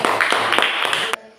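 A classroom of students claps for a classmate, a dense burst of quick overlapping hand claps close by, steady for about a second before stopping abruptly.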